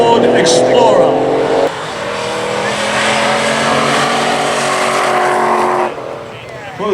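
A Pontiac G8 and a 2021 Ford Explorer drag race at a strip, engines roaring loud and sustained at full throttle past the listener for several seconds, with the sound dropping away near the end.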